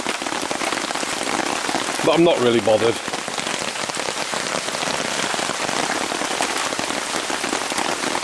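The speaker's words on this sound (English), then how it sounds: "Got a bit of tin over it because it's just started to rain again." Steady rain patters on a tin sheet rigged over a campfire at a hammock camp, a dense close drumming that runs throughout, with someone speaking briefly over it.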